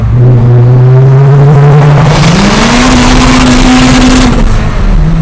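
A loud small car engine revs steadily in a tunnel, its droning pitch climbing and holding, echoing heavily.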